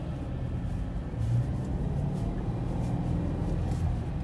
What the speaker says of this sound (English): Let's take this Scion FR-S for a spin here.